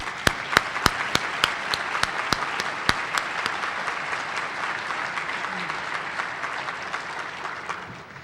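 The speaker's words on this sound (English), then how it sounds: "Let's give them another round of applause." A crowd at a choir performance gives another round of applause, with sharp individual claps ringing out close by over a steady wash of clapping that holds for the whole stretch.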